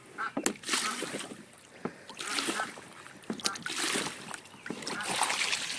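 A tub of muddy water dumped out at night, splashing and sloshing in several bursts with trickling in between, while a person talks over it.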